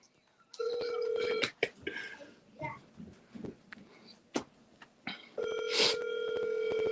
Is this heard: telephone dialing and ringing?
yes